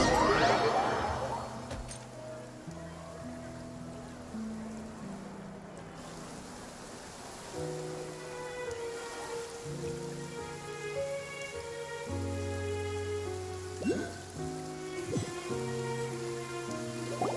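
Steady rain falls in a video game scene, a soft continuous hiss running beneath a slow melodic music track with occasional louder splashes.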